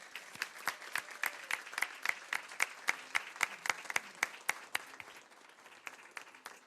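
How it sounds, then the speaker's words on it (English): At a school governing board meeting, a small crowd claps in distinct, rhythmic strokes. The applause is moderately loud and near, then thins out toward the end. "Another round of applause for the voices of Carol G."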